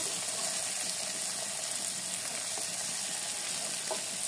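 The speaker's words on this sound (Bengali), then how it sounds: "বেগুন কুচিটা দিয়ে এবার আবার সব ভালো মতো একসাথে ভেজে নেব" Chopped eggplant, potato and carrot frying together in a pan, a steady continuous sizzle with faint stirring scrapes, moderately close and without talk.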